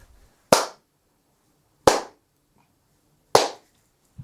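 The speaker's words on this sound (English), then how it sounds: "So let's do the clap test." Three sharp hand claps spaced about one and a half seconds apart in a home studio room, each followed by a short ringing echo tail in otherwise quiet space.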